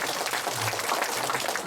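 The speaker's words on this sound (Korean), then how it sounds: "우리 네 분의 토론자들에게 여러분 다시 한번 큰 박수 부탁드리겠습니다." A Korean ceremony audience claps for four panelists, a short burst of continuous, fairly loud applause with a faint low hum beneath it.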